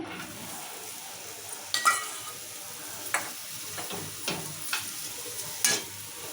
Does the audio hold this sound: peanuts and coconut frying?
yes